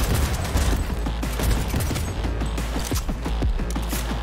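Gunfire in Cyberpunk 2077, with rapid automatic bursts and overlapping shots that crackle loud and continuous over a deep rumble.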